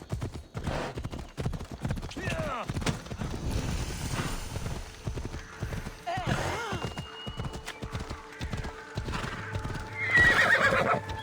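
A horse in Assassin's Creed Odyssey gallops with quick, close clip-clop hoofbeats, neighs and whinnies loudly, and keeps running as the pace carries on steadily.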